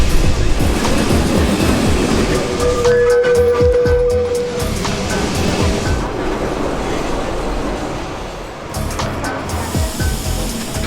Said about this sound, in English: This is one of the trams from the 1930s